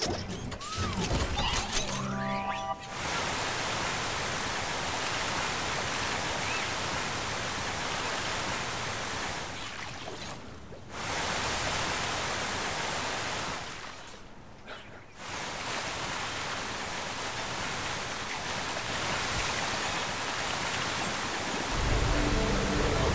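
Water blasting from a faucet gun in the video game Astro Bot, a loud broadband hissing spray that runs for long stretches and cuts out briefly twice before resuming, with no speech over it.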